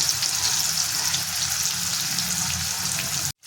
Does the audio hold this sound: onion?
yes